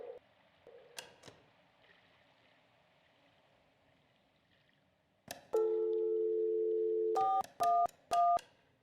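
Telephone dialing tones in the Kentucky Route Zero video game: a long steady dial tone followed by several short, loud keypad beeps in quick succession, after a few faint clicks over a quiet background.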